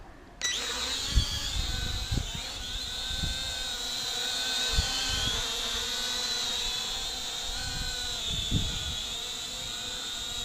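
Eachine E58 small quadcopter drone starting up and lifting off in a light breeze, a sudden high buzzing whine of propellers that holds steady and close, with occasional low wind thumps.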